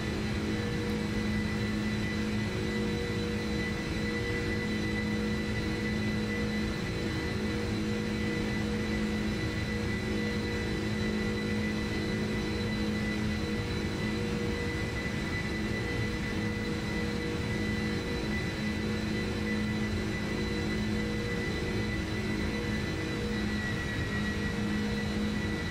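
A Boeing 747-400 climbing in the Prepar3D flight simulator, its jet engines giving a steady, loud cabin drone with a constant whine and tonal hum and no pauses or voices.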